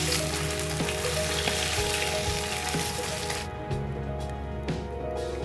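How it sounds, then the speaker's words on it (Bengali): Fish frying lightly in hot oil, a steady close sizzle with soft crackles and a few brief stirring bumps, the hiss continuing unbroken throughout. "একেবারে হালকা করে ভেজে নিয়েছি মাছগুলো।"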